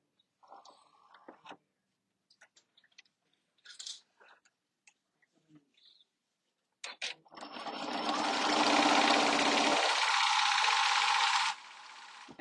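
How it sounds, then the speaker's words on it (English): A Janome Continental M7 sewing machine stitching fabric runs in a loud, steady, close whir for about five seconds, then drops to a softer hum, after scattered light handling clicks and taps. "And it's sewing too fast for how fast I'm moving the fabric."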